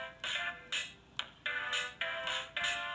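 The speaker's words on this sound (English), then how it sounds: "you'll hear the drum pattern first, and then the music kicks in" An Usborne musical book plays a short electronic beat pattern, bright repeated bursts in an even rhythm, close and alone.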